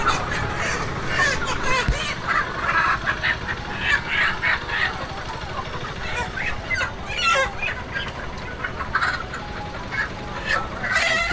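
Crowded food market in Dimapur, Nagaland, where live ducks and chickens are sold: steady overlapping quacks, clucks and squawks close by, with bursts of market bustle throughout.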